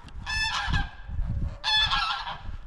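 Two bursts of goose honking at a pond, loud and close, harsh nasal calls overlapping in a small flock with low rustling noise underneath.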